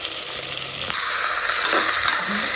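Three onions fry in oil for a wedding-style stuffed brinjal dish, making a loud, steady, close sizzle with brief stirring scrapes partway through and no talk.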